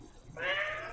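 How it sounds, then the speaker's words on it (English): A single drawn-out cat meow rises after a brief quiet moment and holds steady, close and clear. "if you hear that meowing, it's Bear."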